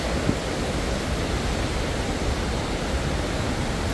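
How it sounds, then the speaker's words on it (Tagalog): A small waterfall at Minoo, Japan, gives off a constant, even rush of falling water that is close and fairly loud, with no talking over it. "Ito yung falls."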